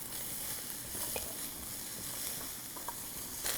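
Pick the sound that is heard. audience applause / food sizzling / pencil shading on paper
food sizzling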